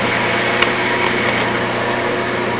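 A Clausing metal lathe motor runs steadily during a thread-cutting pass, a loud, constant whine and hum with a faint tick near the start.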